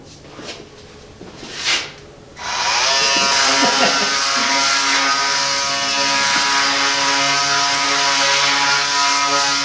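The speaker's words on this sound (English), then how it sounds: "we're going to just take a uh, small sander, may use an orbital one as well" A small orbital sander runs steadily on the wood of a cable spool being turned into a table, a loud continuous buzzing whir that starts after a couple of brief knocks and holds for the rest of the clip.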